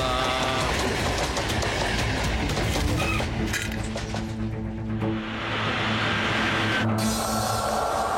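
Train clatter in a children's animated cartoon, a steady loud rolling rumble with rhythmic wheel knocks running throughout, layered with bright background music and effects, no speech.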